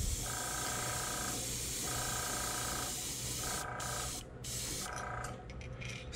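An airbrush sprays a thin coat of yellow paint onto a topwater bullfrog popper fishing lure, giving a steady close hiss. It is interrupted by a few brief rhythmic pauses as the trigger is eased, with no talking.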